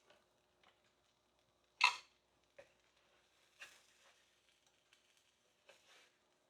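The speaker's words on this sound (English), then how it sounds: "That is the sound of melted cheese hitting the skillet." Melted cheese from a grilled cheese sandwich being pressed down hits a hot skillet, giving a faint, sparse sizzle with one sharp crackling burst and a few soft pops and ticks in a quiet kitchen.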